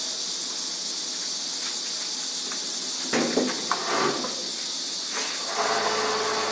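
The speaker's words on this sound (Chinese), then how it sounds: "这款机子是持续放气12公斤的，持续放气12公斤，冷机启动的话大概10秒钟就可以" A compact door-to-door steam and high-pressure cold-water car cleaning machine starting from cold gives a steady, loud broadband hiss throughout, with a few sharper bursts and clicks partway through as it builds pressure.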